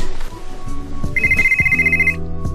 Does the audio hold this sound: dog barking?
no